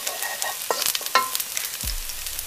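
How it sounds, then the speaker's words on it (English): Garlic dropped into smoking-hot oil and stirred for a flat rice noodle dish, crackling close sizzle with repeated metal scrapes and clanks, ending in a low thump. "you add in the garlic. And stir it"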